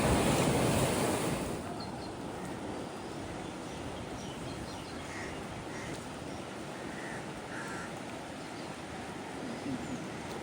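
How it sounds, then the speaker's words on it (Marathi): Floodwater of the Ulhas River rushes with a dense, continuous roar, loudest in the opening seconds and then steady, with wind buffeting the microphone. "आणि तुम्ही बघू शकता पाण्याचा फोर्स किती आहे."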